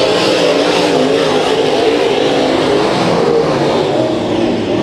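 Race cars roar past at full throttle during a heat race at Kings Speedway, racing single file after a restart. A dense, loud engine wash holds steady and close throughout.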